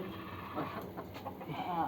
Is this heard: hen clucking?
yes